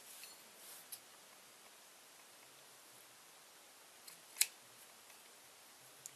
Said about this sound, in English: the scissors and you cut this stuff off.